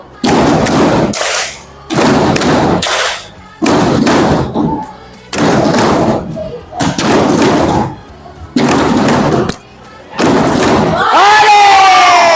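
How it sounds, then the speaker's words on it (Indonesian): A class of students bangs on desks and claps in an ice-breaking game, loud rhythmic bursts of thumping and cheering separated by short quiet gaps, ending with a sustained noisy stretch. "murid diajak untuk sekedar melepas lelah dengan lakukan ice breaking tepuk meja"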